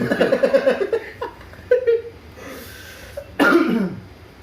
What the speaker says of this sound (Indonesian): kenapa gue jadi batuk dan deket lu ya?